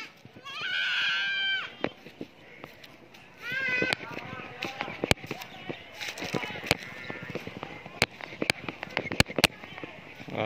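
Goat kids bleating loudly on a farm, with a couple of drawn-out cries close by at the start, then sharp clicks, knocks and rustling as people speak nearby.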